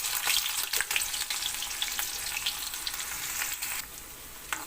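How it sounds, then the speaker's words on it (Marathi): Chopped onion fries in hot oil with cumin and mustard seeds for a traditional Maharashtrian vegetable curry, giving a steady close sizzle with a few sharp crackles and spatters throughout, and no talking. "कांदा तेलामध्ये परतून पूर्ण ब्राऊन होऊ द्यायचा"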